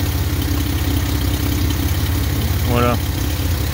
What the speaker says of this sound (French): Deux collecteurs 3 en 1, et donc une double sortie d'échappement, ce qui donne à la voiture ce son sympa.